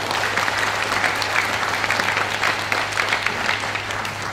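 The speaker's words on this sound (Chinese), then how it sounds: "所以这边可以借助大家掌声给 Victor 当一个掌声。" Audience applause fills a business leadership training meeting, a dense, steady clapping from a large crowd that carries through the whole stretch with no talking over it.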